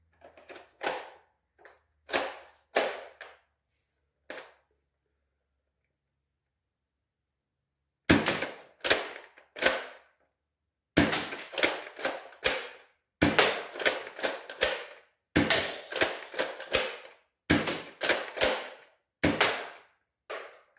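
Nerf spring-powered blaster loaded with pro darts, fired in a rapid series of sharp clicking snaps and thuds, a few isolated shots early, then a quick string of clustered shots close to the microphone, with no talk.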